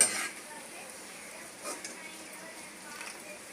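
Peanuts frying in a pan with grated coconut while making carrot halwa, a faint close sizzle with soft stirring scrapes and a brief clink near the start, quiet throughout.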